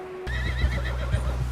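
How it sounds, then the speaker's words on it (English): A horse in the video game Red Dead Redemption 2 lets out a loud, close whinny that rises and wavers after a sudden start, with low rumbling underneath. "Someone help John down off this horse"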